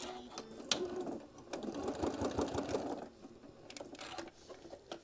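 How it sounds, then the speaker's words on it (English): A sewing machine stitches across a small travel case for a mini iron, running in short bursts with one longer steady run of rapid needle chatter in the middle, close and alone. "we're going to stitch that over, making sure everything is smooth on the back side, and get that stitch down"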